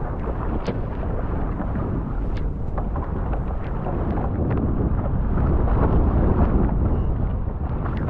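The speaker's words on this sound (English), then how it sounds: "So the wind has increased" Strong wind roaring across the microphone while sailing an RS100 dinghy, a loud continuous buffeting rush with occasional gusty peaks and faint knocks, no voices.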